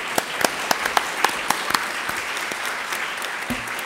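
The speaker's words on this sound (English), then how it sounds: "Thank you for being here, and an applause for Lawrence, James Lawrence." Applause from the audience at an award ceremony at the IMISCOE 2015 academic conference, with steady, even clapping and a few sharper claps from a hall, continuing at a constant level.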